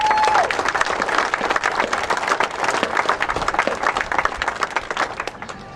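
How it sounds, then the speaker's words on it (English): A crowd applauds at an outdoor memorial ceremony held in the rain, with sharp, individually distinct claps forming a steady round of applause that gradually thins toward the end. "Let's give them a round of applause as well."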